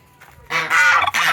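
Goats waiting for their feed let out a loud, nasal bleat that rises sharply after a faint start and carries on in a couple of close, strained pulses.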